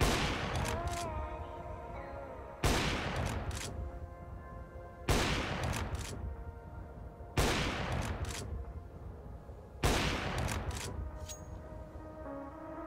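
Five separate gunshots in CS:GO fired through a wall, each a sharp loud crack followed by a long ringing decay, spaced about two to three seconds apart.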